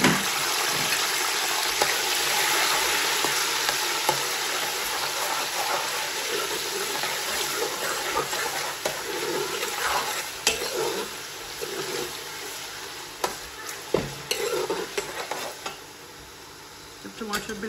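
Tomatoes and garlic fry with spices in a pan for lamb pulao, giving a steady, close sizzle with stirring scrapes throughout. No one speaks.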